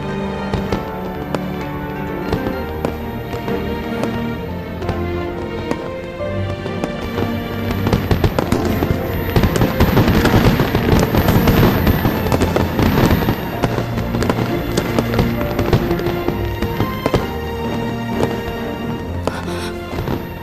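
Fireworks burst continuously over an orchestral music score in a video game, watched from below a city gate tower, the dense crackling explosions swelling louder toward the middle and staying steady throughout with no voices.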